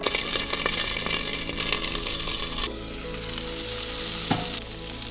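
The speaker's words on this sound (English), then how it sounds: "First I fried off some Italian sausages, let them sizzle for a little bit." Italian sausages frying in a pan outdoors at a riverside camp, giving a loud, close, continuous crackling sizzle with bursts of spitting fat and occasional scraping as they are stirred, heard alone without talk.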